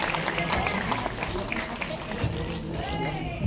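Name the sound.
applause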